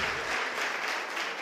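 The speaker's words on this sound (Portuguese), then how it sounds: "Você pode aplaudir o Senhor?" A church congregation breaks into dense, steady applause for the Lord during a sermon, the clapping filling the room evenly and loud for the whole short stretch.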